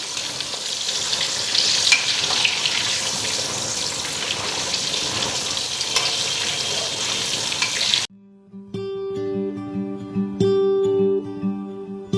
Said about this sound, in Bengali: ভাজাটা ভাজতে নিচ্ছি